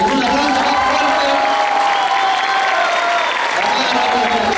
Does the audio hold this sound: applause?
yes